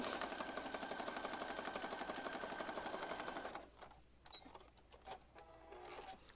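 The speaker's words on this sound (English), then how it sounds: "I'm just sitting here concentrating on sewing." Sewing machine stitches in a fast, steady rhythmic chatter for several seconds, then stops, leaving quiet handling clicks and rustles of fabric at a craft table.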